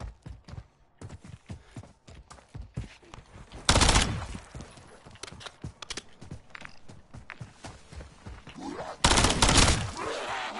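Gunfire in Modern Warfare 3 Zombies: rapid sharp shots and clattering bursts, with two loud blasts at the peaks and scattered impacts between them, all fairly close.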